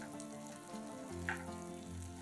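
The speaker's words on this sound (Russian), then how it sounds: "Подготовленный сыр в панировке выкладываем на горячую сковороду." Breaded cheese sizzles and crackles steadily in a hot pan, a close, continuous frying hiss with no voices.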